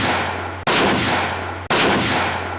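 Two loud rifle shots at a firing line in a Lego animation ring out about a second apart. Each is a sharp crack trailing into a long, fading echo.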